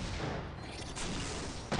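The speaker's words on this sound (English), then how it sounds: "Very close explosion." A very close explosion in the video game Postal 2, a dense, loud rumbling roar that fills the whole short stretch with a sharp thump near the end.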